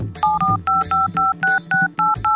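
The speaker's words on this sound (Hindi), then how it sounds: "ला फोन मिला के देखो" A quick series of about nine dual-tone keypad beeps, evenly spaced, clear and close, like a phone number being dialed.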